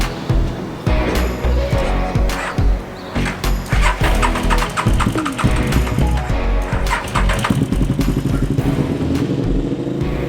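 A KTM 950 motorcycle fitted with an Akrapovič exhaust runs close by with a loud, clattery, uneven engine note that pulses and blips over about ten seconds.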